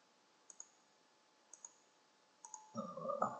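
A computer mouse clicks three times in quick pairs, crisp and close in a quiet room, followed by a brief burst of louder rustling noise at the end.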